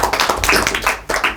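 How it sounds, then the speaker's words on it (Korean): Brief burst of audience applause at a public forum on apartment security guard working conditions, a quick run of sharp claps filling the short moment with no talk. "큰 박수 부탁드리겠습니다"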